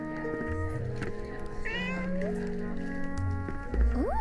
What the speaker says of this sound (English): Ooh, this cat?